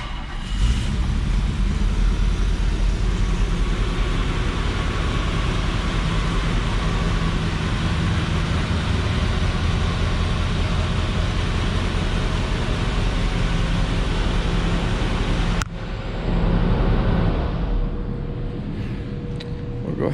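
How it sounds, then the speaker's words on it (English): Mercedes-Benz 280SE 3.5 Coupe engine idling steadily after starting, a close, even mechanical hum that holds for most of the stretch, then a brief shift and a slightly louder burst near the end. "we were at the starting of the engine."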